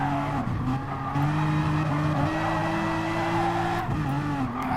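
Race cars getting crossed up in Gran Turismo Sport, including a Renault, engines droning loud and close with tires squealing and skidding, pitch shifting as the cars slide through the pack.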